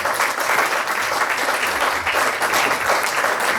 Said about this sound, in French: avec votre applaudissement